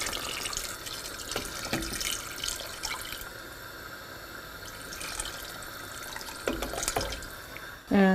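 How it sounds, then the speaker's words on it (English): Water pours steadily into a cooking pot on the stove during preparation of Iranian zereskh polo, a constant close splashing rush ending with a brief clatter. "I'll raise the heat and I'll add some water"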